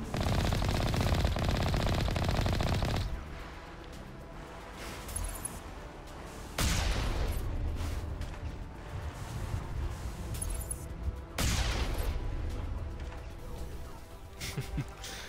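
Rapid automatic gunfire in Mass Effect Legendary Edition, set in the Virmire conflict, comes as loud sustained bursts separated by brief lulls, with a voice speaking over the shooting.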